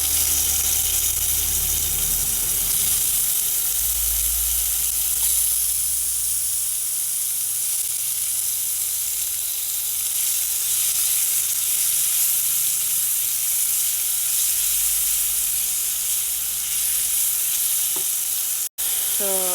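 Tuna and tomatoes sautéing in a little oil for ginisang tuna, a loud continuous sizzle with stirring, steady and close for the whole stretch.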